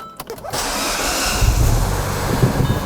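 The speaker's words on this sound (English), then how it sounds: "With the battery replaced, let's see if it starts up." A 2007-2013 Mini Cooper S (R56) starter cranks briefly after a battery replacement, then the engine catches and settles into a steady, loud running rumble with a faint whine.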